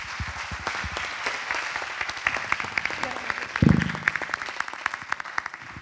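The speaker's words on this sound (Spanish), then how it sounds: "Yo vamos a pedir que todos nosotros nos demos un aplauso por estar aquí." Conference audience applauding, a dense crackle of clapping hands with a sharp burst of heavier claps in the middle, tapering off toward the end.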